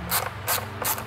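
Three quick bursts of ratcheting from a T30 Torx wrench removing the ignition coil cover on a 2009 Mini Cooper Clubman, each a short clicking run, close and clear.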